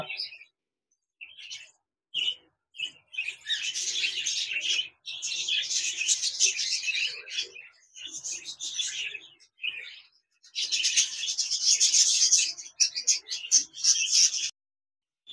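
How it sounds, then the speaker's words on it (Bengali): Black Java sparrows chirp and tweet in quick bursts, a busy high-pitched twittering that keeps starting and stopping, close by in a cage with short pauses between flurries. "এখানে দেখতে পাচ্ছেন এক জোড়া ব্ল্যাক জাভা পাখি রয়েছে"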